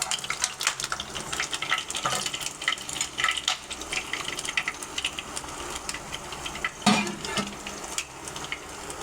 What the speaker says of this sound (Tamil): இப்போ எண்ணெய் சூடாயிருச்சு. இப்போ ஃபஸ்ட்டு வந்து இஞ்சி போட்டுக்கோங்க.